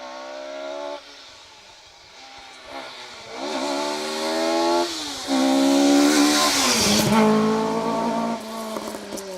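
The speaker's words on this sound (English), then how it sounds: "Car number 70 then, Fintan McGrady and Dean Beckett in the RS 1800 Class 1 running Ford Escort" Ford Escort RS 1800 Class 1 rally car on a rally stage, its engine revving hard through gear changes, growing louder and closer as it accelerates past, with a faint voice underneath.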